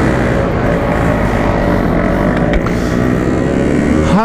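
A Yamaha RX King motorcycle on a night ride, its engine failing and struggling for speed, gives a loud, constant, close-up roaring drone mixed with rushing wind, with no talking.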